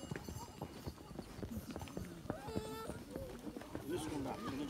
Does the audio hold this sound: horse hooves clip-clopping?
yes